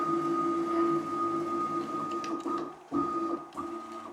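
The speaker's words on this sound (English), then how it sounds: "We're just going to jog the machine forward and to the left a little bit." A CNC milling machine being jogged forward during work on an HTD 5M gear, giving a steady whine with two sustained tones and brief pauses where the axis motion stops and restarts, fairly close and clear.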